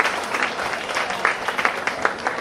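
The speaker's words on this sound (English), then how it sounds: "Please give them a round of applause for this." An audience at a talk on democracy and human rights gives a brief round of applause, a dense wash of clapping with a few sharper individual claps standing out.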